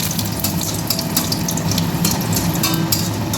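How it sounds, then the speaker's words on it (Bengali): Fenugreek seeds, bay leaves and dried chili sizzling in hot oil for a Bengali lau shukto tempering, a steady close hiss and crackle throughout with no talk. "এখানে আমি মেথি আর তেজপাতা আর একটুখানি শুকনো লঙ্কা ফোড়নে দিচ্ছি।"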